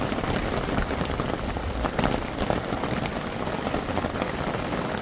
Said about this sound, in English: This is the first time it's rained this hard,